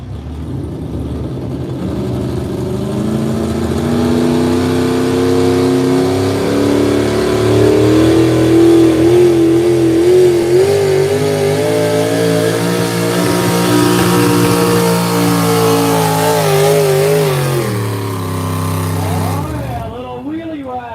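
A Chevrolet pulling truck at a truck and tractor pull roars under full throttle, engine pitch climbing and wavering as it runs the track, loud and sustained before cutting off abruptly near the end.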